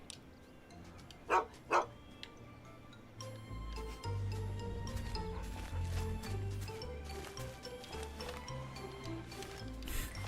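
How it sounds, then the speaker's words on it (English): Dog in Fallout 3 barks twice in quick succession, sharp and fairly near, followed by a steady game background hum with faint ticking and low rumbling; no speech. "Doc the dog, of course."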